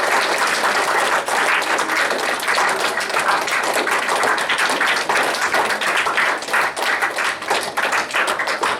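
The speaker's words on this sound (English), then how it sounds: "Let's give a nice round of applause." A room full of people breaks into sustained applause and clapping, loud and continuous for about nine seconds with no talk over it.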